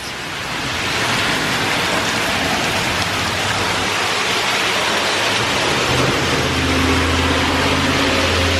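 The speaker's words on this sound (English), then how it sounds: "That's a lot of rain" A storm's downpour falls hard and fast, a loud unbroken roar of rain on surfaces with a low rumble underneath, steady throughout and free of talk.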